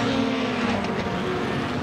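Race cars in a 4-cylinder heat drone past in a steady, continuous engine roar at moderate distance, with no talk.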